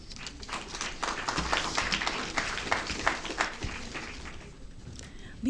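Applause from a conference audience at a sport-for-development plenary session, a steady patter of many hands that is moderately loud, heard from within the room and fading toward the end.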